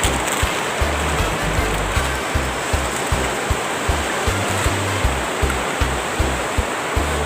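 Instant tom yum shrimp noodles are stir-fried with jasmine rice in a pan, giving a steady close sizzle with a regular rhythm of scraping or tossing strokes throughout.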